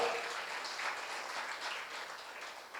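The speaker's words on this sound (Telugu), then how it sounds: "గట్టిగా చప్పట్లు కూడా దేవుని కనపరుద్దాం." A congregation at a New Year worship service claps loudly and steadily in a continuous wash of applause, with no talking over it.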